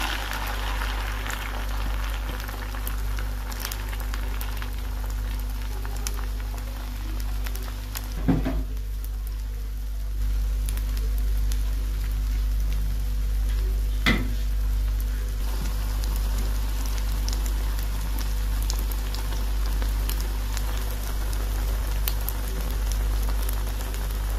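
A mixture frying in a pan for a quick, light dinner, a steady even sizzle and crackle that holds throughout with two brief louder pops.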